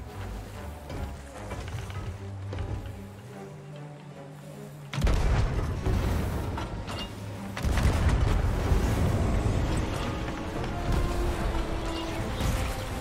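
Galleon cannons firing in Sea of Thieves at sea, deep booming blasts that swell into a heavy rumbling roar, loud and sustained, with a quieter stretch of low background before the first shots.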